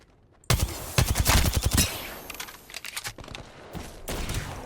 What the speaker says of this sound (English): So you can see they're actually shooting at me right now.